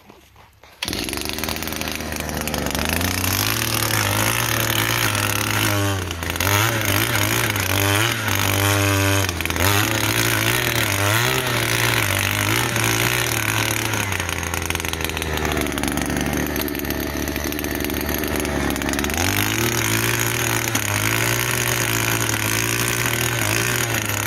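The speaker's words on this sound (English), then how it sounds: "So the auger right here has been very helpful to us" A gas-powered post hole digger auger from eBay roars steadily up close, its two-stroke engine buzzing loudly with small pitch shifts as it bogs and recovers under load, running nonstop with no talk.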